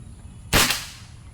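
A single air rifle shot fired at a target, one sharp, close crack with a short fading tail, alone against a quiet background.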